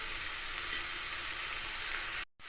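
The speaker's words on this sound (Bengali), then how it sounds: "কুমড়ো আলুটা 2 মিনিট ভালো করে ভেজে নিয়েছি" Raw pumpkin and potato pieces fry in a little oil, giving a steady, close hiss of sizzling that holds evenly throughout before cutting out abruptly near the end.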